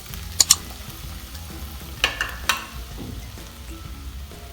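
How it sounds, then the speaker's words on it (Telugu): Chopped onions frying in hot oil in a pan for a soya bean curry, a steady low sizzle with a few sharp clinks of a spoon against the pan near the start and middle. "ముందుగా పాన్లో ఆయిల్ వేసుకుని వేడయ్యాక ముందుగా తరిగి పెట్టుకున్న ఆనియన్స్"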